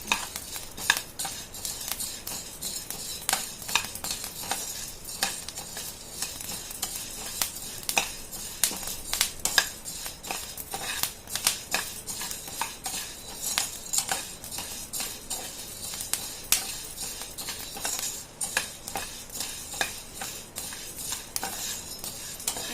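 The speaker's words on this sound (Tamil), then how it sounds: "அது மாதிரி நல்லா பொரிகிற அளவுக்கு வறுக்கணும் கோதுமையை" Wheat grains roasting dry in a pan for a wheat chikki snack, a continuous scatter of tiny crackling pops and grainy rustling as the kernels are stirred with a metal spoon, with occasional utensil clinks, close and low in level, no talking.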